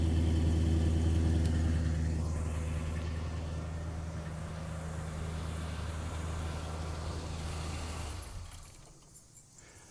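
A 1973 Ford Galaxie 500 hardtop with a single exhaust idles close by, a steady low throaty rumble that holds evenly for about eight seconds before dropping away, followed by a few light clicks.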